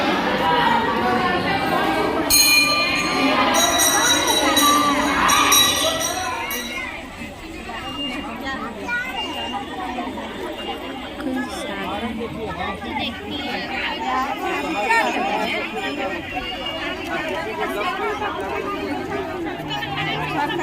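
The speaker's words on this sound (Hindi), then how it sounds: "ज़्यादा भीड़ है ना।" Dense crowd chatter at a busy Jitiya fasting gathering beside a pond, many overlapping voices forming a continuous hubbub with occasional faint clinks, louder and closer at first, then settling into a steadier, slightly softer murmur.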